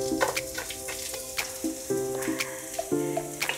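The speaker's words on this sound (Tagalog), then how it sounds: "painitin natin yung yung mantika natin, at igigisa na natin yung bawang" Garlic sautéing in hot oil while pork igado is being prepared, a bright crackling sizzle with repeated bursts as the pan is stirred, close and fairly loud, with no talk over it.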